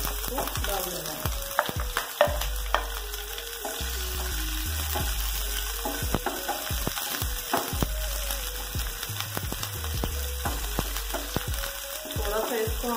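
Chopped onion goes into hot oil with cumin and mustard seeds for a samosa filling, giving a steady close sizzle with repeated stirring clatter and scraping across the pan throughout, no voices.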